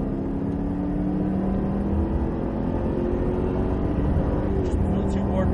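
A Cadillac accelerates hard at full throttle on a track, its engine heard from inside the car as a steady, loud, rising drone, with a voice coaching underneath.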